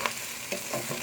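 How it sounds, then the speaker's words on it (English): Chopped ginger sautes in oil, giving a steady close sizzle broken by a few quick stirring scrapes in the pan over about a second, with no voices. "I'm gonna saute now together."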